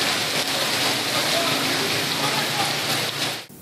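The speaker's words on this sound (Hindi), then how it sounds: "लाहौर समेत पंजाब के मुख्तलिफ शहरों में सुरमई बादल छाए और जमकर बरसे।" Monsoon rain falls steadily in Lahore, Punjab, a dense continuous hiss of drops that stays loud and even before cutting off abruptly at the end.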